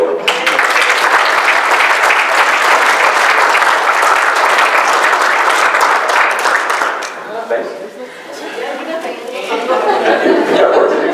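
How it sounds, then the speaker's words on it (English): Banquet audience at a motorsport club awards dinner bursts into sustained loud applause for several seconds, then it thins into scattered claps and crowd chatter before swelling again. "So round of applause again for Ann and John Bowling."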